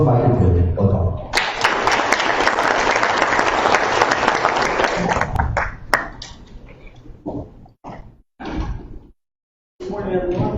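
An audience at a blockchain and cryptocurrency summit applauds a speaker being welcomed to the stage, a dense, loud burst of clapping that carries on for several seconds before thinning into scattered claps and then dying away.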